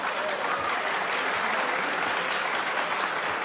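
An audience at a civic league anniversary dinner applauds loudly and steadily, a dense wash of clapping filling the room throughout.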